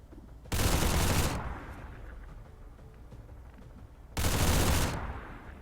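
Suppressing gunfire in a video game, two loud sustained bursts of rapid automatic fire roughly three seconds apart, with quieter mechanical game ambience between them.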